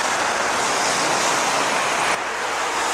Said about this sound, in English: So I hope you can hear me with all the traffic